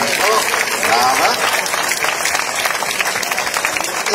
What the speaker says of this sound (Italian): A Graziana è già arrivato un bel applauso e ora glielo allunghiamo perché si goda questo momento.